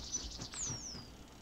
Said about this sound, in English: Wow, look at all these birds.